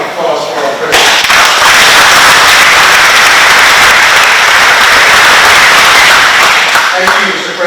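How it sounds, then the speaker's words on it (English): Loud, dense applause from a large audience at a national convention center handover ceremony, starting abruptly and sustained for several seconds before tapering off. "Let's have a big round of applause for our president."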